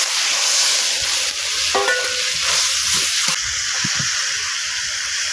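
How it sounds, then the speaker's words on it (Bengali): Spice paste of onion paste, chilli, cumin, coriander, turmeric and salt with a splash of water, sautéing in oil for a pointed gourd and prawn curry: a steady close hiss and sizzle with spoon scrapes and stirring knocks, no talking. "তো এই মশলাটা তেল ওঠা করে কষিয়ে নেব"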